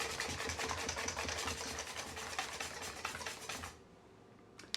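A whisk beats gluten-free crumpet batter in a bowl, a fast steady scraping and rattling that runs continuously at close range before stopping abruptly near the end.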